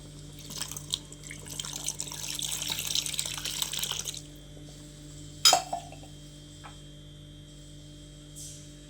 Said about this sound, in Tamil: நம்ம கொஞ்சமாக தண்ணி ஊற்றிக்கலாம்.